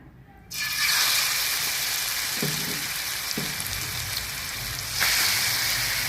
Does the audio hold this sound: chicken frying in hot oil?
yes